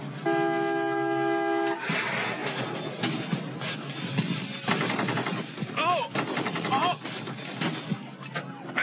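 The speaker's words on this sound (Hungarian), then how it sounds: "Tüzel. Kilőtt a kocsi ablakán." Film scene of gunfire shot from a car window on a city street: a sustained steady tone cuts off into a chaotic burst of sharp shots, car-horn toots and street commotion, with voices shouting beneath.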